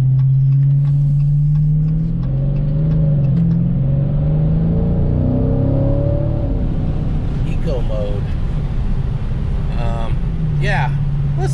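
Dodge Challenger Scat Pack driving, a low engine rumble that rises and shifts as the car pulls away, with someone talking over it.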